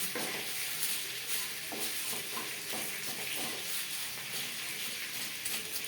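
Torn bay leaves fry with spices in a wok over a low flame, making a steady hiss and sizzle. Soft scrapes and stirring clicks come through along with it, close and continuous, with no talking.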